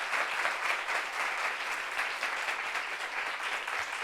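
A studio audience applauds a newly introduced guest, steady dense clapping from many hands filling the room at an even level throughout.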